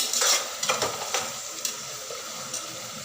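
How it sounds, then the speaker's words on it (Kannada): Vegetables and ginger garlic paste are stirred in a pan, with scraping clinks of a spoon and light sizzling. The sound is close and fairly loud at the start, then eases to a softer fry with occasional taps. "ಶುಂಠಿ ಬೆಳ್ಳುಳ್ಳಿ ಪೇಸ್ಟ್ ಹಾಕೊಂಡು ಎಲ್ಲ ಮಿಕ್ಸ್ ಮಾಡ್ಕೋಬೇಕು"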